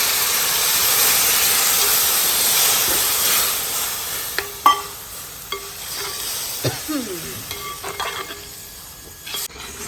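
Crab roast curry boiling after water is added: a steady hissing, bubbling sizzle fills the first few seconds, then fades under sharp clinks and scrapes of stirring in the pan.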